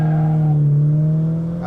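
A 1970s Chevrolet Caprice V8 launches hard from a standstill, its engine note loud and close with a steady low drone as it pulls, the tone holding then easing slightly toward the end, no voices.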